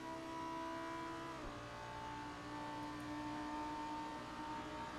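A Lamborghini Huracan race car in a racing simulator during the Daytona 24 Hours, its engine droning at a steady, sustained pitch, dropping briefly once as if shifting, then holding on alone at moderate loudness.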